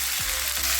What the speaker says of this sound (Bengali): ধুয়ে রাখা আলু দিয়ে দেবো। ছোট ছোট টুকরো করা ফুলকপি দিয়ে দেবো। সব একসাথে ভালো করে ভাজা করব।